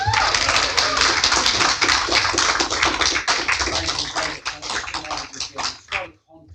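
Dense, rapid clapping from a crowd at a council meeting, steady and fairly loud, tapering off near the end into a few scattered claps and brief silence.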